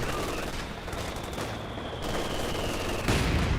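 A German MG42 machine gun rattles in a Company of Heroes 2 battle, a continuous fast burst of loud automatic fire layered with other battlefield shooting and a distant boom near the end.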